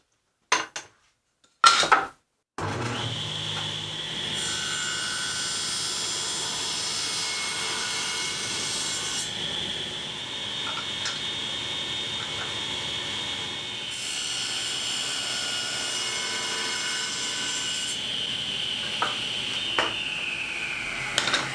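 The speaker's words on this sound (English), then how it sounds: "Now I need to tilt the blade to match that angle so I can put a bevel on the top" Saw blade tilted to cut bevels in wood, giving a steady, loud whining drone that runs for most of the clip after a few brief bursts at the start.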